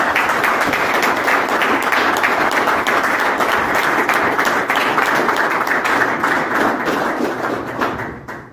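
Dense, loud applause from a church conference audience rises for a speaker and continues steadily for several seconds before tapering off at the end.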